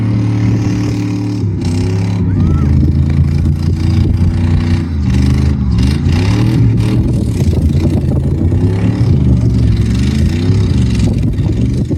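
An outboard motor on a boat drones loud and close, its pitch rising and falling with throttle changes in a continuous, steady run.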